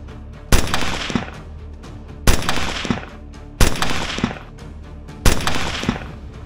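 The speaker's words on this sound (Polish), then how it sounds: "zaczyna się od ostrzelania celów na 300 i 200 metrach" Rifles fire at targets 300 and 200 meters away during a shooting competition at a Polish shooting center. Four loud, sharp shots come at roughly even intervals, and each one leaves a long rolling echo.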